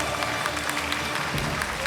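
Steady, fairly faint applause from an audience at a drama awards ceremony as male acting winners are announced, a continuous wash of clapping throughout.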